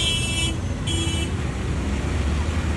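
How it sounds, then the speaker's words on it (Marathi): Heavy road traffic near Metro Mall, a steady, loud roar of engines with two short car-horn toots early on and no speech over it. "बघा एवढी ट्रॅफिक आहे."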